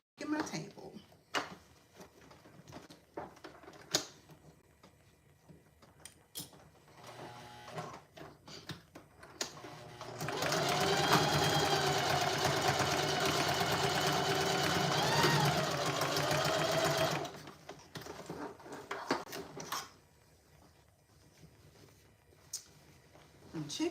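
A sewing machine stitches a tote bag back and forth, running in one steady loud burst of about seven seconds mid-clip, framed by quieter handling clicks and table thumps before and after.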